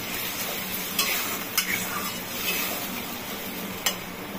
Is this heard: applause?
no